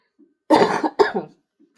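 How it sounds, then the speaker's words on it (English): Two quick, close coughs from a lingering cough, one right after the other, with faint breaths before and after. "Sorry guys, this cough, I did have it last time, I just can't shift it"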